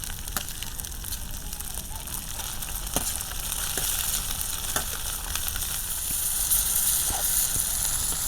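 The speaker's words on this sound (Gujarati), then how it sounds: "ડુંગળીને બરાબર તેલમાં સડવા દેવાની છે" Grated onions fry in oil over a traditional village stove, giving a steady, dense crackling sizzle up close, with occasional stirring knocks and no voices.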